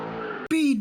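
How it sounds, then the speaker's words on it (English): A car engine revs in a short, sharp burst, rising to a loud, whining pitch with a screechy edge before cutting off. "Rev up your engines!"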